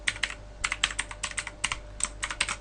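Bursts of quick key taps on a computer keyboard as a command is typed into R, clicking in short clustered runs with brief pauses between, close and clear over a low steady hum.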